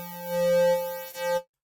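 A bright, ringing synth tone from a Logic Pro 11 stock instrument, low pass filter with resonance peak, held steady for over a second before cutting off abruptly into silence.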